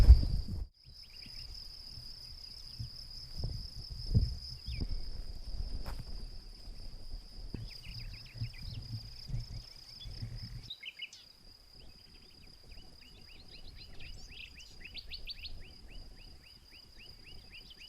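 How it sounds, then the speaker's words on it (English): Outdoor insect and bird chorus at an off-grid homestead: a steady high cricket-like trill runs throughout, with scattered chirps and calls, while nearby footsteps and rustling sound early on and fade later. "I wanted you to stop and listen to the birds because this is what I hear all day and all night"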